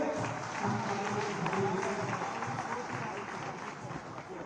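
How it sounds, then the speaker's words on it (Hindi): Audience applause at a BJP candidate's rally meeting in Chandni Chowk, a steady dense wash of clapping from a large crowd lasting throughout, fairly even in loudness with some crowd noise mixed in. "एक बार फिर जोरदार तालियों से"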